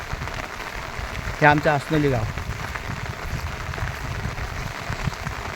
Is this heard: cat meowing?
no